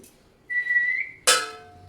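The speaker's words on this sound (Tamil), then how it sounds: "நீ விசிலடி" A person whistles a sustained, slightly wavering note for about three quarters of a second in a home kitchen during Diwali sweet-making, followed by a sudden loud sizzling burst.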